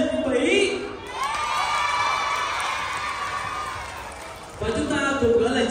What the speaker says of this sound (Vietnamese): Tiếp theo chúng ta hãy dành một tràng vỗ tay